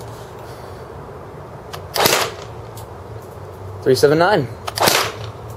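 A G&G F2000 airsoft rifle with an optic, running on a 9.6 volt battery, fires 0.2 gram BBs through a chronograph. Two separate sharp, snappy shots ring out close by, and a voice speaks briefly between them.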